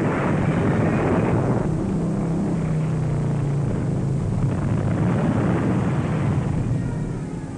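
Wartime military aircraft fly overhead with a steady, loud engine drone that swells and fades slightly over several seconds. The sound has the coarse, rough quality of an old newsreel recording.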